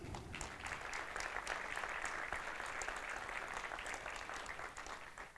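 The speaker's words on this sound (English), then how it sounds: "Please give them a big applause," Audience at a Java developer conference clapping for the day's speakers: a full, continuous wash of many hands, fairly distant and soft, holding steady before tapering at the end.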